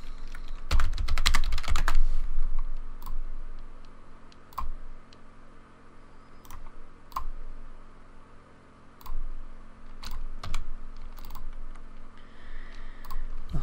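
A computer keyboard is typed on while HTML and CSS code is written: a dense flurry of keystrokes at first, then scattered single clicks and short runs of taps, close and clear with no talking.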